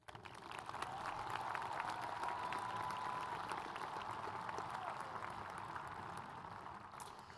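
Sustained audience applause at a high school graduation ceremony, a broad steady wash of clapping from a large crowd that fills the whole stretch and eases slightly toward the end.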